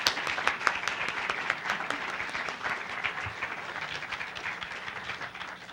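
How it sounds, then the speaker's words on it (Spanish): Audience at a national criminology congress applauding, a dense steady clatter of many hands clapping that fills the room and fades slightly toward the end. "Brindémosle un fuerte aplauso."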